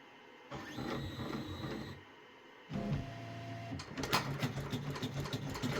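A Redline embroidery machine stitching a design onto a towel: close mechanical whirring and rapid needle chatter that starts, pauses briefly, then resumes more busily with clicking, no voices.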